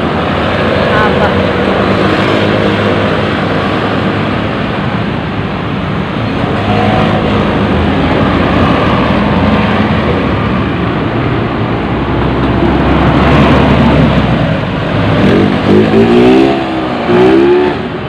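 Road traffic along a city street, with a steady loud rumble of car engines passing and accelerating nearby, swelling and easing over time, heard from within moving traffic.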